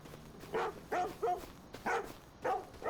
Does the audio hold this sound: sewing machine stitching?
no